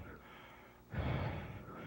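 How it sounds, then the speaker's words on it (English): Heavy, rasping creature breathing from a TV drama, a low, close exhale swelling in the middle of the clip over a murky, hissing background. "I can hear it breathing."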